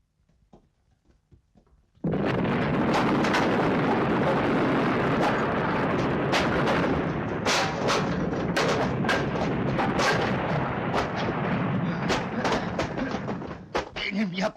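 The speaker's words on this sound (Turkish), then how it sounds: "Attığım bomba her zaman patlar." A sustained, loud barrage of booming blasts and cracking bursts, like an explosion or heavy gunfire, sets in suddenly after a quiet opening and continues with sharp repeated impacts.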